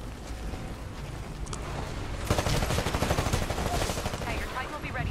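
Rapid gunfire in the Titanfall beta, a steady mid-level rattle that grows louder and denser halfway through, with a voice talking over it.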